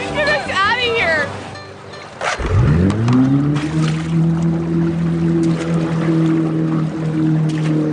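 A tour boat's engine on open water: a steady low drone that starts up partway through and holds loud and even, with a voice chattering over the first moments.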